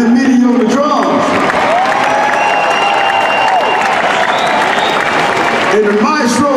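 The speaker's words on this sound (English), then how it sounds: "Let's give him a round of applause." A large audience at the Chicago Blues Festival at Pritzker Pavilion applauds and cheers steadily and loudly throughout, with whoops rising above the clapping and an announcer's voice heard over the crowd.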